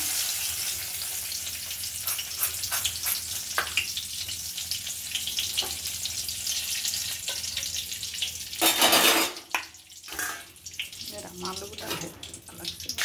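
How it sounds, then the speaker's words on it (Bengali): Potatoes for a meat curry sizzle and fry in hot oil with bay leaves, a steady crackling hiss that flares sharply near the end as more goes into the pan, with occasional stirring and someone talking. "মাংসের আলুগুলো একটু ভেজে নিচ্ছি।"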